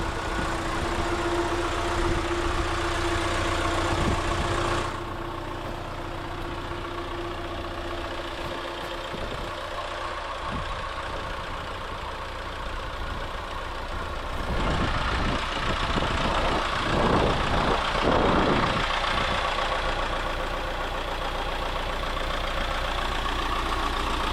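A Lull Highlander 844 telehandler engine idles steadily for the whole stretch, a dense continuous rumble with a slight shift in tone partway through and some rattly bursts later, with no voices.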